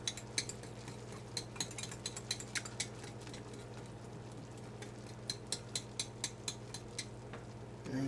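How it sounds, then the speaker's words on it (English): A whisk scraping and clinking in a pot of thickening béchamel sauce off the heat, giving irregular light metallic taps over a steady low hum, fairly quiet. "I'm going to keep whisking here"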